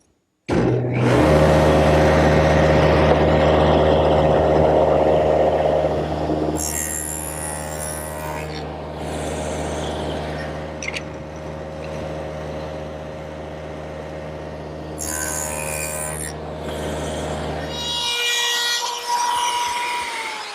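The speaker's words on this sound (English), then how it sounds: "Now I'm rabbiting out the edges so that they can fit into the groove that I made in the rail earlier." A power router or shaper cuts rabbets along the edges of tiger maple blocks for a washstand, giving a loud, steady whine with tonal hum for about six seconds, then easing into a lighter, rougher cutting sound that briefly drops out and picks back up near the end.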